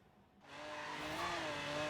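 A heavily modified Range Rover in Forza Horizon 3 starts from near quiet, then its engine swells into a loud, sustained rev with rising tone that holds steady to the end, with no talk over it.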